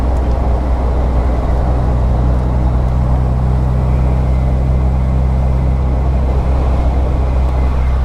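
An MGB Roadster chugs slowly along a quiet road, its engine a steady, loud, low drone with constant wind and road rush and no voices.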